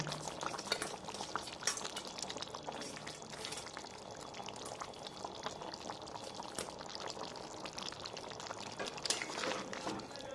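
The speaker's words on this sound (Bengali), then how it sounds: "মাছগুলো দিয়ে আমি আবারও ফুটিয়ে নেব।" A bhetki fish curry with potatoes bubbles in a pot, a continuous soft boiling and popping texture with light splashy crackles throughout, close and low in level, without speech.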